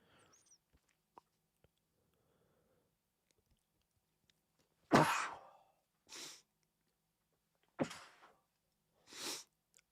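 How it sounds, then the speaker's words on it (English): After near silence, a few sharp breathy bursts come close to the mic, sneeze-like expulsions and heavy exhales spaced a second or two apart. "I did not want to sneeze on air, but here we are."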